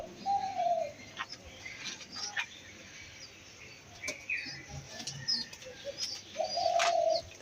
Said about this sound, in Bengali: এই যে সাদা দুইটাই সাদা কবুতর।